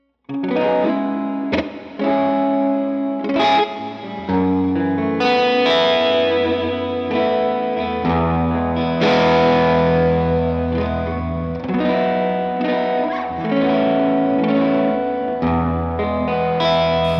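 Distorted electric guitar through a Line 6 Helix ADT double-tracking effect plays chords and notes with a doubled, wide chorus-like texture and a spacious stereo hall reverb tail.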